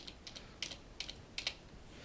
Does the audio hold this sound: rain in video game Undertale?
no